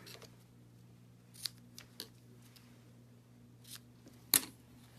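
Scissors snip card stock for a handmade stamped card in a few sharp, scattered cuts, the final one loudest, over a faint steady background hum.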